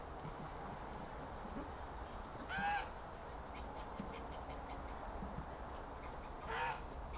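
A couple of brief duck calls stand out over steady outdoor noise, one near the start and another near the end, as about ten ducks drink together in a barn on a -18.5°C winter morning.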